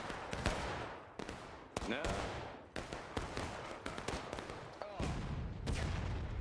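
Scattered gunfire in a Civil War–era multiplayer battle game, Union against Confederate troops, with sharp irregular shots near and far, some pistol fire, and a steady battle din beneath.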